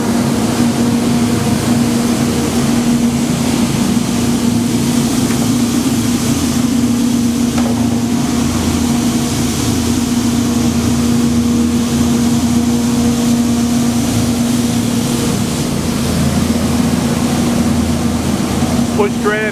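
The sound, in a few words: Douglas WR-1500 tunnel washer running totes through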